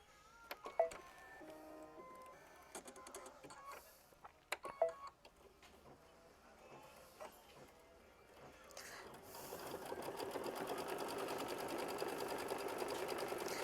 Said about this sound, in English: it does just a nice little run stitch around it as well